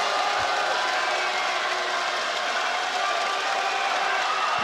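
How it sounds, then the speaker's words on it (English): Basketball crowd at a professional league finals game in Taiwan, a dense, steady roar of cheering and noise filling the arena continuously during free throws, with no distinct voices standing out. "Pilots cheering on Archie Goodwin without any success in the first free throw."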